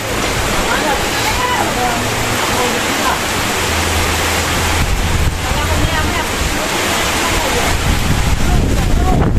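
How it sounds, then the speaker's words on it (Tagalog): Loud, constant roaring typhoon wind under storm Signal No. 2 in the Philippines buffets the microphone for the whole stretch, with rushing broadband noise and a low rumble throughout. "Ay, hangin! Binabagyo na po kami dito."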